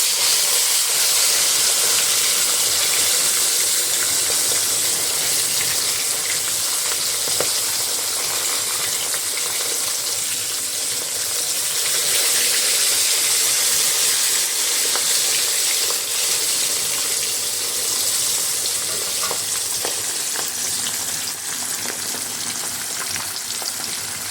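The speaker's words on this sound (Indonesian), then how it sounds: "Saya baru pertama kali juga goreng ikan ini." Fish frying in a pan in a home kitchen: a steady, dense sizzle and hiss with spitting oil crackles throughout, close and loud, with no talking.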